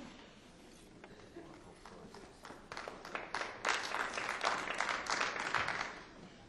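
Applause rises in a municipal council meeting, starting as scattered claps and building into a fuller round before easing, with voices murmuring underneath.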